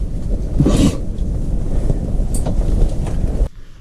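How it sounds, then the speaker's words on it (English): Strong wind buffets the microphone with a loud, low roaring rumble and occasional gusts, then cuts off abruptly near the end. "It's getting pretty gnarly windy out there."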